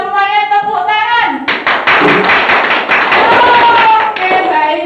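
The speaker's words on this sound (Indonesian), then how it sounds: "Kata Pak Budi semuanya tepuk tangan" A small group clapping hands in a room, sharp, close claps that follow a stretch of voices and music-like tones, loud and irregular before settling into a steadier patter.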